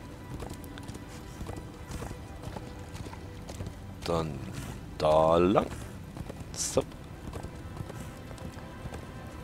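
A horse galloping in Darksiders 2, with steady rhythmic clip-clop hoofbeats throughout and a brief whinny, under someone speaking German.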